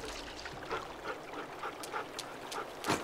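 A dog in The Walking Dead: The Final Season video game gives soft whimpers and breathy pants in a loose repeating rhythm, set against a watery trickling backdrop with no talking.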